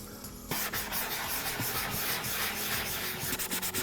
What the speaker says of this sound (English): I sand the helmet once again with an older fine grit sanding sponge